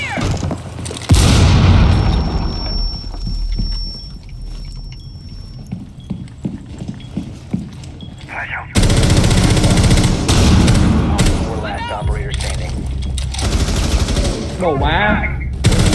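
Gunfire in Rainbow Six Siege: loud bursts of automatic shots open the stretch, then scattered single cracks, then another long heavy volley of rapid fire with booming impacts, while players talk and exclaim over it.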